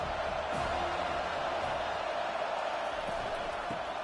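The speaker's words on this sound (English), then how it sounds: "this crowd is tearing the lid off this place" A loud football stadium crowd roars steadily at a college game between Alabama and Florida State, a dense continuous wall of cheering with no pauses, sounding close and enveloping.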